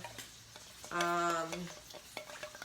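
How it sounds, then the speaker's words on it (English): A muddler stirs blackberry bourbon syrup, giving a brief ringing scrape midway, surrounded by soft taps and clinks that sound close by. "And then I can just like stir it up with the muddler a little bit"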